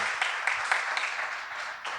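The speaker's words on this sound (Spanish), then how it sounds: "Lo primero que les voy a pedir es un enorme aplauso para Pablo Conde" Audience applause at a comic and graphic-storytelling event, heard as a steady wash of clapping with a few sharper accents, fairly close and continuous for the whole stretch.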